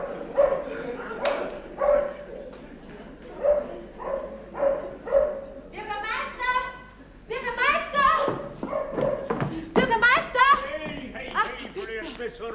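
A farm dog barks in short repeated bursts, mid-distance, in a 1964 German stage comedy, with people talking around and between the barks.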